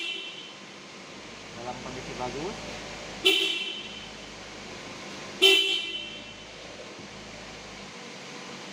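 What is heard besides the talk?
car horn being tested during vehicle inspection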